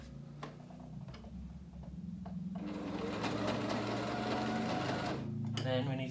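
Domestic sewing machine running a back stitch through fabric, a steady mechanical whir that starts low then runs louder and continuous for several seconds, with quiet talk around it.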